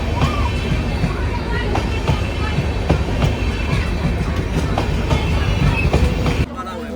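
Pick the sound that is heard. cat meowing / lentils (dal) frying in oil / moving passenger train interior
moving passenger train interior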